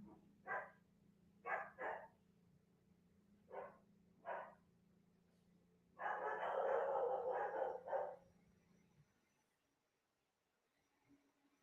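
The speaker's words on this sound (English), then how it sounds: "That was the garage door opening, and the dogs are losing their minds." Dogs bark at a household garage door opening: several separate sharp barks spaced a second or so apart, then a dense burst of overlapping barking for about three seconds before it cuts to near silence.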